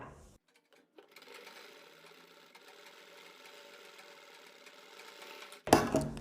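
A sewing machine stitches along a quarter-inch margin on a boat neck blouse with buckram: a steady close-up whir runs for about four and a half seconds after a brief start, then a sudden loud clatter at the end.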